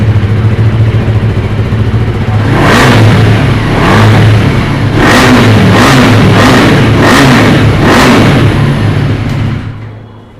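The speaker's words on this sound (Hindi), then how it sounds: "अब गाड़ी का साउंड सुनिए" A second-hand 2024 KTM Duke 390 fitted with full-body crash guards is revved repeatedly, about six sharp throttle blips rising over a steady idle, loud and close before the engine note fades out.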